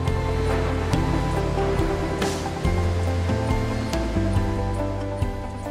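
Molten iron pours from a tilted furnace into a ladle at a cast iron foundry, a steady, loud, rushing roar layered with a constant low industrial hum throughout.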